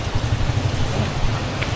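Steady rain pours down outdoors with a dense, continuous hiss, loud and even throughout with a low rumble underneath, and no voices.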